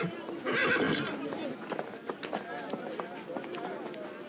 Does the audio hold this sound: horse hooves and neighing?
yes